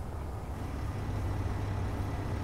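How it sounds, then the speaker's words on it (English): A hydrogen engine running in the video game Space Engineers, a loud, steady low rumbling drone that holds constant without pauses. "Oh, I hear the engine."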